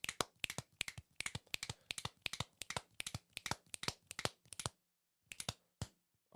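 Hand claps in a steady run of sharp, close, dry strikes, about three per second with slight irregular doubling, ending in a pause and a few final scattered claps.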